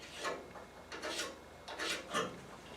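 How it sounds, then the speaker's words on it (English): A chisel working a steering box mount, giving several close, rough scraping strokes in uneven bursts, with no talking. "I'm going to grab a chisel."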